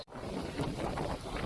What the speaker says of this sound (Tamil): காற்று பயங்கரமாக இருக்குது